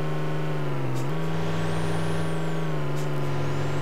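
Scania 124c truck in Euro Truck Simulator 2, a loud steady engine drone with a brief dip in pitch followed by sharp hissing bursts of air brake release, no talking.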